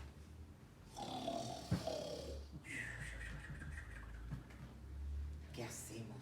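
A storyteller's voice imitates a dog snoring, slow, breathy rasping snores in a quiet indoor setting, soft and close.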